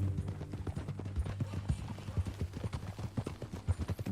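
Horse hooves clip-clop steadily in Red Dead Redemption 2, a loud, even walking rhythm of hoof strikes close up throughout, without any talk over it.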